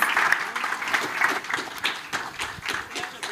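Audience applause for speakers opening a talk on AI-generated content and copilots, a dense, steady wash of many hands clapping throughout, close and fairly loud.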